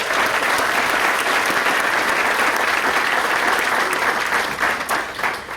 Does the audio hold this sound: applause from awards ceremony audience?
yes